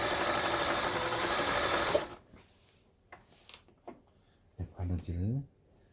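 A Riccar 960 home sewing machine runs steadily and loudly for about two seconds, then stops; afterward only faint clicks and handling noises remain, followed by a brief spoken voice.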